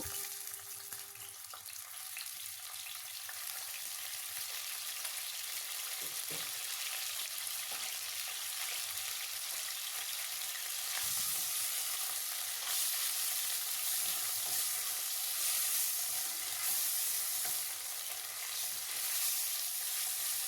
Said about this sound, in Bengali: ব্রকলিগুলো এখন আমি একটু ফ্রাই করে নেবো